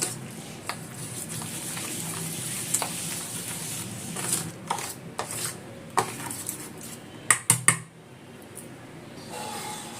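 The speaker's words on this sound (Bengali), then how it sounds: "এই সব উপকরণগুলো মিশিয়ে নেবো ভালো করে।" Spoon scraping and clinking in a bowl while sugar, mustard oil and spices are mixed for katla fish paturi, a steady run of close utensil taps and stirring with a few sharper knocks near the end.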